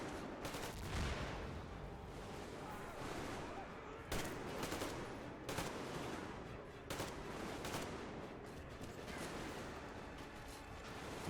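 Gunfire rattles dense and continuous in the distance, with bursts and sharper cracks running through a steady roar, and no voices over it.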